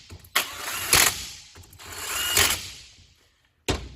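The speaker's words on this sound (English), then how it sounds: "my impact, even though it makes a lot of noise" An impact wrench tightens bolts during a quick engine rebuild on an Exciter 340, firing in three loud, rattling bursts separated by short pauses, with the last burst brief and abrupt.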